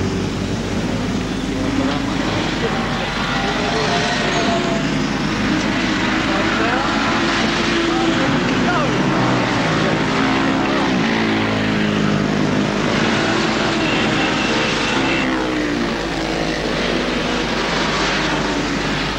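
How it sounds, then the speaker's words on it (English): Racing motorcycle engine running after starting during a pit stop at the 1979 Castrol 6 Hour race, a loud, continuous buzzing roar that stays strong and steady the whole time. "45 seconds the bike started"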